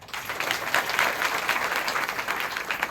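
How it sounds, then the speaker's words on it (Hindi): A church congregation breaks into steady, dense applause that holds for a few seconds, with many hands clapping together close by. "अपने लिए ताली मार लो।"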